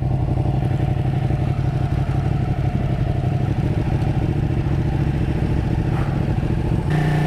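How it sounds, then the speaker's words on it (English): Ducati 959 Panigale sport motorcycle engine running steadily while riding on a road in third gear, a loud continuous low drone with clattery mechanical texture throughout, no talking. "I keep thinking that's the hypermotard making the noise. It's not. It's this thing."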